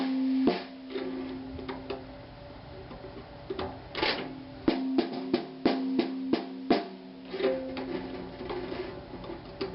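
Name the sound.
snare drum played with snares tightened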